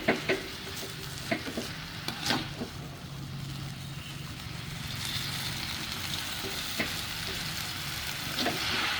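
Water spinach and sliced tomato stir-fry in a hot pan, a steady close sizzle with occasional scraping clatters of the spatula as the vegetables are tossed.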